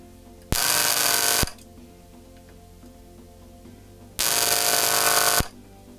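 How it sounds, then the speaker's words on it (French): Two loud, sharp hisses from a spring-loaded desoldering pump sucking solder off the button contacts of a Logitech M720 mouse during a repair, each lasting about a second, with a quiet bench background between them. "je vais probablement utiliser la pompe à dessouder"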